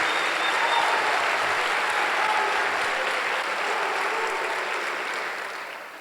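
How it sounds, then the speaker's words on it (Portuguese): A church congregation at a Sunday service breaks into sustained applause, a dense, loud wash of clapping that holds steady for several seconds and then fades slightly at the end. "Se alguém aqui concorda com isso, por favor, dê um aplauso para Jesus"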